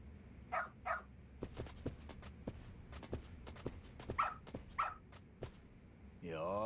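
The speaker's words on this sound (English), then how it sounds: "Bark, bark." Two pairs of short, bright dog barks ring out in a Lost Judgment game scene, one pair early and one later, over a low ambient bed with scattered footstep-like taps and a brief rising whine at the end.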